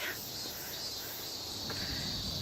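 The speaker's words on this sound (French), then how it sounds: "Il y a toujours ce petit bruit de cigale, hein." Summer cicadas drone in a traditional Tokyo garden, a faint, steady high-pitched buzz sustained throughout over soft background noise.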